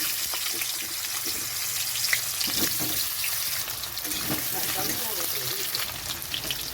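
Potato pieces frying in mustard oil in a wok, a continuous sizzle with scattered crackles and the scrape of stirring, close and moderately loud.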